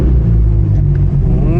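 A manual Genesis Coupe with a loud exhaust and turbo sends out a close, steady, deep engine rumble with throaty low harmonics throughout, while voices seem to murmur under the noise.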